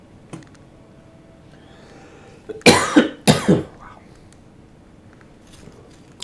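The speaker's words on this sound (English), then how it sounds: "Well, I now just started coughing." A man at a microphone coughs twice in quick succession, loud and close, the harsh bursts standing out against a quiet room with faint clicking before and after.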